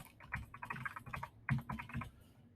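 A password is typed on a computer keyboard in two quick bursts of close, light key clicks with a short pause between them.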